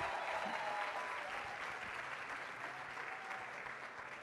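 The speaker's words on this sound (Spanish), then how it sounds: "quiero por favor que les demos un fuerte aplauso de gratitud" An audience at a mentoring event in Barranquilla claps in gratitude, with sustained, fairly distant applause that holds steady and fades slightly toward the end.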